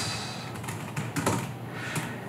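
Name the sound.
typing customer phone number and email in phone app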